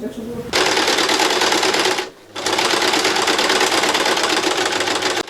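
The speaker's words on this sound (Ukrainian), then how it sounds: "За роботою на швейній машинці Олена може провести цілу ніч і пошити не менше 30 подушок" A sewing machine stitching pillows runs loud and close in a fast, steady mechanical rattle, pausing briefly before starting again, with a voice speaking over it.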